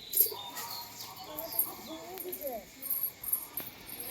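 Soft coos from a sick pigeon with a twisted neck, which spins in circles, and scattered bird chirps in an open outdoor setting, with faint background voices and ambient noise.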